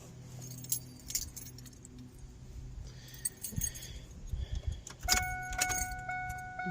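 Keys jangling as they are pulled from a pocket beside a 2000 Ford F-150 pickup, several close metallic rattles and clinks, followed by a steady electronic chime tone from the truck.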